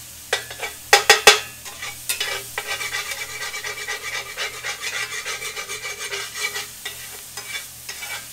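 Lobster with ginger and scallion cooking in a smoking hot pan, sizzling steadily while being stirred and scraped with a utensil, with a few sharp clacks near the start, close and fairly loud.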